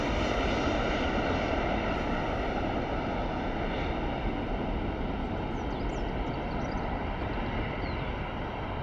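Heavy Ryanair airliner passing at Bristol Airport in early morning, a loud, sustained jet engine roar that holds steady throughout with no voices.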